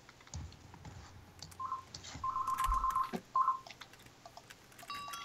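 Real phone ringtone going off during Minecraft Bed Wars play, a few short electronic beeping bursts in a patterned rhythm mixed with keyboard and mouse clicks.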